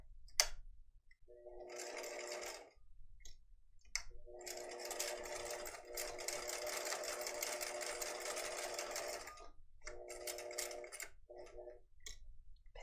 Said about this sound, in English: with the sewing machine.